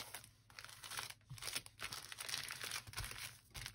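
A self-adhesive plastic bag being folded over and pressed flat makes close, continuous crinkling and crackling with brief pauses between handling movements, and no voices.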